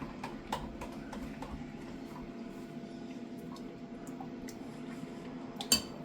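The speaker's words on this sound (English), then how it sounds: "Alright, so I'm going to continue mixing here." Food is stirred in a bowl in a home kitchen, with soft, irregular clinks and taps from a utensil against the bowl and one sharper knock near the end, faint overall.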